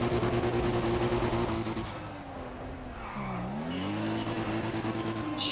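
A race car in Need for Speed ProStreet roars at high revs, pitch dropping then climbing again through a shift, with tire squeal and a loud, close engine drone, no talk.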